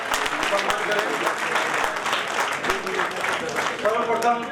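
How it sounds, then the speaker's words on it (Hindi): An audience at a Lions Club event breaks into steady applause, a dense continuous patter of many hands lasting the whole stretch, with some voices faintly underneath. "एक जोरदार तालियां बजाकर हमारे मंच का सम्मान करें"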